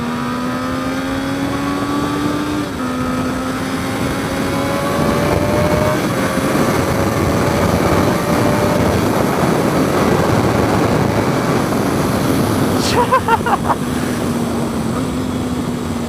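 A Triumph motorcycle on a sprocket geared six teeth up on the rear pulls hard through first gear, its engine note rising steadily, loud and continuous, with a brief shift-like dip and wind rush throughout.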